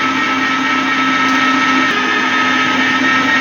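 Meat, onion and bread being minced in a kitchen meat grinder, a steady loud motor drone with a whining hum that runs unbroken throughout.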